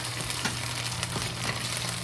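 Soybean paste fries in a wok with a steady, moderate sizzle and light crackling, alone and unbroken for a couple of seconds.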